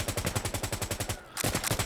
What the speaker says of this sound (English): We've got Overwatch set up with the MG here. Beautiful suppression.